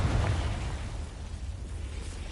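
A Confringo blasting spell from Hogwarts Legacy goes off as a single loud, rumbling explosion that starts at full force and slowly decays into a low, broad roar.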